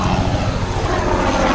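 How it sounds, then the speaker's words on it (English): A helicopter flies by close to a naval air station in Pensacola, its loud, continuous rotor and engine drone filling the air with a low throbbing rumble and no talking. "Helicopter flying by."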